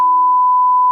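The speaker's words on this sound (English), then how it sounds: "We'll just bleep it all out." A single steady censor bleep tone, a pure sustained beep about a second long with nothing else audible.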